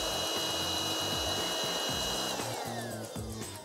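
A Hoover Jovis hand-held vacuum cleaner runs with a loud, steady motor whine and rushing air, holding a high tone that shifts slightly toward the end, with no talk.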